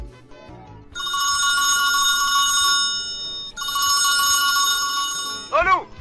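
A telephone rings loudly and close by in two long electronic bursts separated by a short pause. A brief voice follows right after the second ring.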